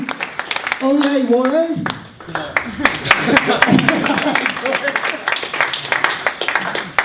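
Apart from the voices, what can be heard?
audience applause for the judges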